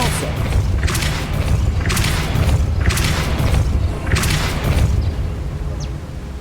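In Hogwarts Legacy on Xbox Series X, the Depulso spell is cast repeatedly, giving four or five heavy, booming bursts with a whooshing crack, spaced about a second apart over a low rumble.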